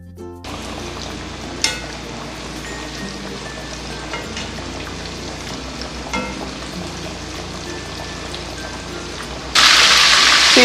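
Pieces of spicy crispy chicken frying in hot oil, a steady dense sizzle and crackle throughout, close and loud, with a sudden louder hissing burst near the end.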